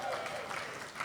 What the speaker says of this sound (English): so I want to give her a round of applause.